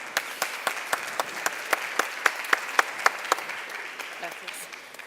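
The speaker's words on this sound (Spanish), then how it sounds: "la recibimos con un aplauso" An audience at an education congress claps to welcome a speaker onto the stage, with sharp distinct claps in a steady rhythm rising and then tapering off, moderately quiet and heard over light room noise.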